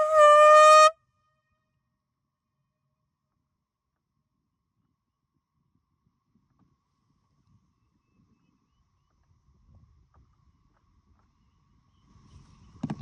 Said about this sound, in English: demonstrate what the speed of sound is with this air horn